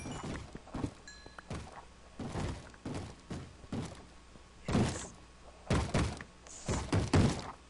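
Zombies in the Minecraft Hexxit game banging on a door: repeated heavy thuds arriving in irregular clusters, some close together and some spaced apart, loud and near against a quiet background.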